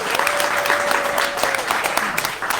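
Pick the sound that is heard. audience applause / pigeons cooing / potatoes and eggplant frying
audience applause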